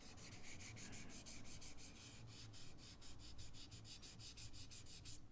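Hand sanding of CA glue, styrene and primer on a custom Bel Air model car body, a quiet, steady series of short rhythmic rasping strokes, close up and repeated evenly with no talk.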